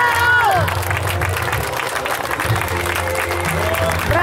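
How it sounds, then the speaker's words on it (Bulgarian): Loud crowd applause and cheering at a mini football cup award ceremony for a national team player, sustained clapping over a noisy hall with background voices and faint music. "Вашите силни аплодисменти за Андрей Кирилов Столичев!"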